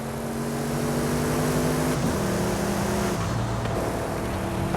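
Racing car engines in a driving video game featuring a Porsche 959 and an Audi RS7 drone steadily and loudly throughout, with sustained tonal engine notes that shift pitch as the cars accelerate and change gear.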